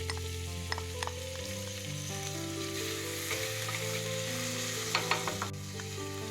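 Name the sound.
onions frying in a pan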